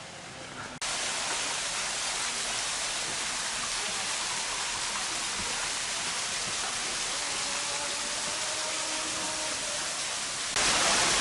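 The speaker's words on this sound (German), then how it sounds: "dürfen wir jetzt hier zum Wasserfall gehen" Waterfall on Lombok, Indonesia, a loud, steady broadband roar of falling water that fills the whole clip without pause, with no voices heard.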